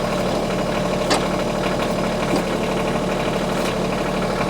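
A Kioti CS2520S compact tractor's engine runs steadily while the backhoe is raised, giving a continuous close idle-level drone with faint knocks and no speech.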